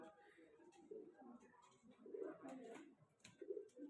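Pigeons cooing in a loft, several soft low coos repeating in short bursts at close range, fairly quiet, with faint chirps and occasional background noises.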